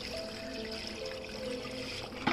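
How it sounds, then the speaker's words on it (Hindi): Water trickles into a 25 kg bucket of exterior Perlina texture paint mix, a faint steady pour with a light splash and clatter at the end. "1 लीटर मैंने पानी डाला है इसमें"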